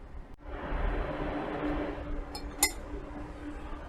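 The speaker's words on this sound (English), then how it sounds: "as you drop in the powder, start to stir it so that it will not come together" Powder is dropped into water in a glass vessel and stirred, giving a soft swishing wash and a couple of sharp clinks of a utensil against glass.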